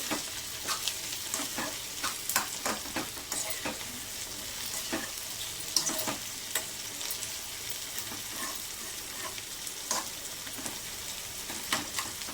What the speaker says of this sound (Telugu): ఇవైతే చక్కగా ఫ్రై అయిపోయినాయి.